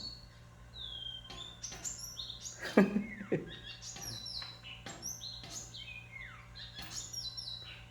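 Small birds chirping outdoors: quick, high tweets and short calls scattered through the clip, mostly faint and distant, with a couple of louder, closer notes near the middle over a low, steady hum.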